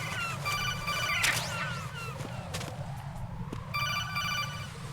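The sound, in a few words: phone call ringing in video game Metal Gear Solid 2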